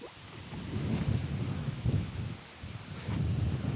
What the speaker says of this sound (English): Holy smokes, it's windy.